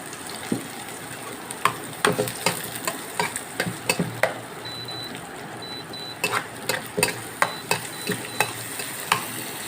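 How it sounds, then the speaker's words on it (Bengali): Onions deep-browning in a pan for crisp fried beresta, a low steady sizzle punctuated by frequent sharp clicks and scrapes of a spatula stirring in irregular bursts, with no talking. "ভালো করে ভেজে বেরেস্তা করে নিতে হবে।"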